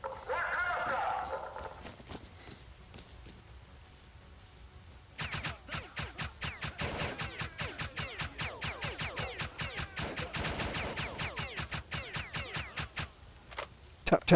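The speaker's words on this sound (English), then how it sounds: "we got somebody shooting from the other side there" Gunfire in the video game STALKER: Clear Sky: after a brief voice, a long run of sharp, evenly spaced shots rattles on rapidly for about eight seconds, then stops.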